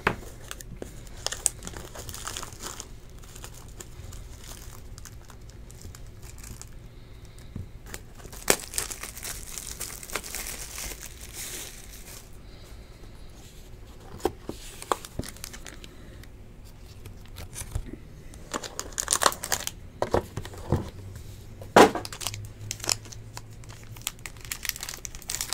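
Wrappers on Panini Court Kings basketball card packs from the 2016-17 season crinkle and tear close up, in scattered bursts of crumpling and ripping across a quiet stretch.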